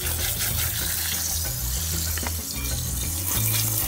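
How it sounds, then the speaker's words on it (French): Water runs through a grandmother's old aluminium colander as clay pebbles are rinsed, a steady rushing splash with low rattling underneath that continues close and loud with no one talking. "je vais devoir laver, puisqu'il faut laver les billes d'argile"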